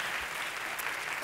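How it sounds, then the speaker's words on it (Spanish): A studio audience at the Voice Chile singing competition claps steadily and densely throughout a brief moment, with no voices over it. "Querida Cami, este aplauso para ti, para escucharte."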